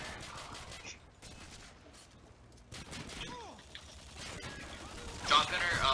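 Shotgun and other gunfire in the video game Modern Warfare 2, scattered bursts of shots and clattering mechanisms amid busy game noise, moderately loud with a sharper blast near the end.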